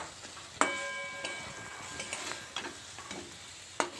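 Fried soybeans are stirred into frying masala, a soft sizzle broken by a few sharp metallic clinks and scrapes of a spoon on the pan, close and fairly quiet.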